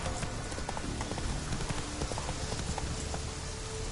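A horse named Roach gallops in The Witcher 3 video game, with a steady, rapid clip-clop of hooves close up, continuous and unbroken throughout.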